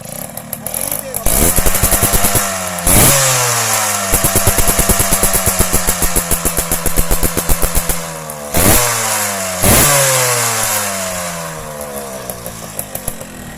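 A Yamaha V80 racing motorcycle's two-stroke engine revs hard and close, with buzzy rising sweeps, sharp blips and repeated throttle bursts, and brief cut-outs between pulls.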